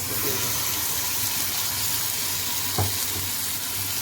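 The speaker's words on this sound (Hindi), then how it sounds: "थोड़ा सा ऑयल गर्म होगा तो इसमें मैं ये चिकन जो मैंने मैरिनेट किया वो मैं इसमें" Marinated chicken sizzles in hot oil in a pan, a steady, close crackling hiss with one brief louder pop partway through.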